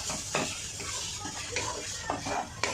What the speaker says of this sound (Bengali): যতক্ষণ আপনি গুড়টা না মেল্ট হয়ে আসে ততক্ষণ একটু নাড়তে হবে